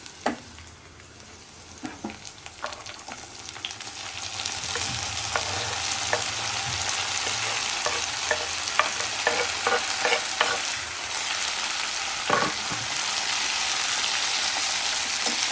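Tomatoes and green chillies for kushka biryani drop into hot oil and fry, starting with scattered clinks and then a loud, continuous sizzle broken by stirring scrapes, close by and without speech.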